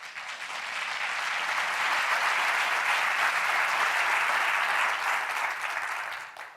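A conference audience breaks into warm applause to welcome a speaker, a dense, steady wash of clapping that swells quickly, holds at full strength for several seconds and then starts to fade.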